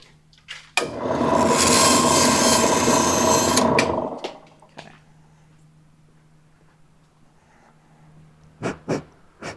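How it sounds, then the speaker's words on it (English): A bandsaw cuts through a prop part in a workshop, a loud, dense buzzing whine lasting about three seconds before stopping abruptly, followed by quiet room tone and a few sharp handling knocks. "I guess I do have to bandsaw it."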